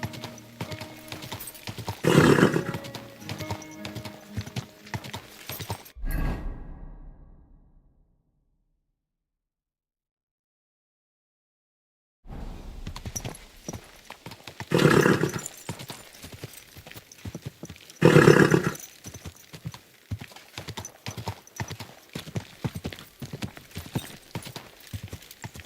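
Horse hooves clip-clopping in Kingdom Come Deliverance 2, a steady walking rhythm close by, broken by a stretch of silence midway before the hoofbeats resume with louder bursts.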